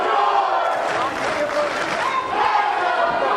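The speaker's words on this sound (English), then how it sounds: "And once again, this crowd completely behind Mr. Number 1, George South" A wrestling crowd in a convention center roars and shouts in loud surges that dip briefly in the middle and then swell again, with chanting voices mixed into the din.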